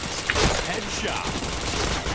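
Bursts of rapid gunfire from the online shooter Point Blank, a loud crackling fusillade that runs almost continuously across two seconds with a sharper shot near the start.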